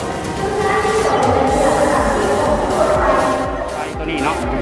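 A Laos-China railway train at a station, a steady rumble of rail noise and crowd bustle carrying through, with people talking throughout.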